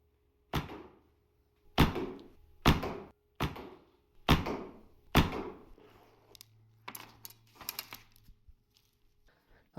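Arrows loosed from an ILF recurve bow, six sharp, loud release thumps about a second apart, then a cluster of quicker, fainter clacks and taps, with quiet gaps between shots.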